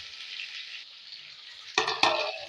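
Ivy gourds frying in a pan give a steady, close hiss of sizzling, then a couple of louder bursts of stirring and spattering near the end.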